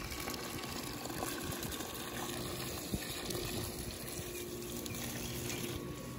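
Garden plants being watered outdoors on a hot day give a steady, soft gushing and splashing of water that runs throughout, fairly faint and with no voices.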